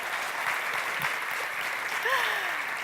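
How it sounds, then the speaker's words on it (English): Steady crowd applause at a conference event, a continuous wash of clapping held at an even level throughout, with a brief faint vocal sound near the end. "Can we give them a round of applause?"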